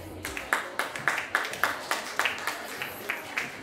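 A small audience at a high heels solo dance contest claps in a steady, even rhythm, the individual claps faint and somewhat distant against a quiet hall.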